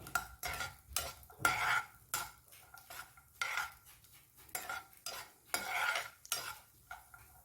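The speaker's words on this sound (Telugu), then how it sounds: "జీడిపప్పులు కొంచెం దోరగా వేయించుకుని తర్వాత కిస్మిస్ కూడా వేయించుకుందాం." A spoon stirring and scraping cashews and raisins frying in ghee in a pan for carrot halwa, with repeated rhythmic scrapes and clinks and a soft sizzle, close up and without talk.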